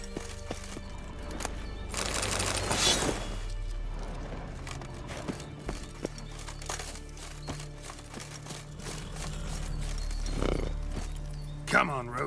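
Geralt's horse Roach in The Witcher 3, hooves clip-clopping in steady trotting rhythm with occasional snorts and gear rattle, moderately close, alongside game ambience and bursts of noise.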